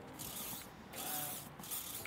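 Hairspray is sprayed onto long auburn hair in two or three short hissing bursts close by, with brief pauses between them.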